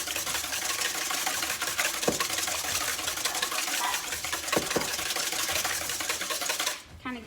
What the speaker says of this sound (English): Okay, so I'm gonna kind of whisk my eggs.